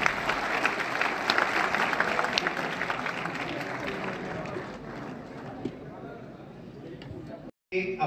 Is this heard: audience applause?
yes